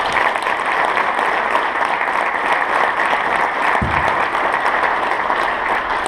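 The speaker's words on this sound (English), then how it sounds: "Let's give them a round of applause." Sustained, dense audience applause at an NCO induction ceremony, loud and steady throughout with no talk over it.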